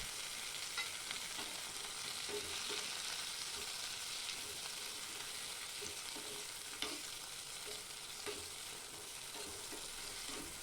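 Tomatoes and dried red chillies sauté with onions in a pan for onion chutney, giving a steady, even sizzle with soft stirring clicks throughout and no talking.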